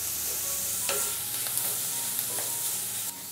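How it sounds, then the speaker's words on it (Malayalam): Sliced onions and vegetables for veg noodles sautéing in a pan, a steady close hiss of frying with a few soft stirring scrapes. "ഇതുപോലെ ചെറുതായിട്ട് എല്ലാം ഒന്ന് വഴറ്റി കൊടുത്തു കഴിഞ്ഞാൽ"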